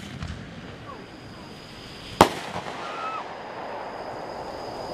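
Fourth of July fireworks: one sharp, loud bang near the middle with a faint crackle after it, over steady outdoor background noise and distant whistles.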